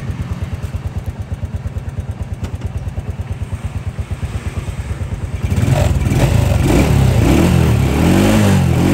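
A motorcycle engine idles quietly with an even, rapid pulsing putter, then is revved up into a louder, rougher running sound for the last few seconds, close by with no talking.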